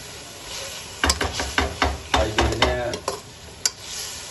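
Okra (bhindi) sizzling in a pan while a spoon stirs it with a run of sharp scraping knocks, loud and close, with no talk.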